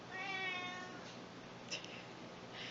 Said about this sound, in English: She reminds me of Simon's cat. Meow. Meow. That's all she does.